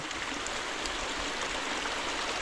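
Steady rushing water flows beside a cornfield during a corn harvest, a broad continuous hiss at a constant level with no speech.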